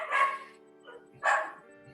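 Two short, yappy barks from a small dog ring out nearby about a second apart, with a faint softer yip between them.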